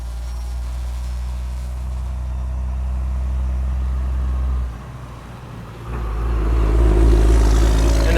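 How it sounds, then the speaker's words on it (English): A large truck rumbles past outdoors with a deep, steady low drone. It dips briefly midway, then swells louder as it nears, with no voices heard. "And a big huge truck goes by."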